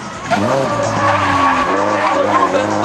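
A drift car at a NOPI drift qualifier event in Desoto screams loudly through a slide, its revving engine holding over a long, continuous tire squeal.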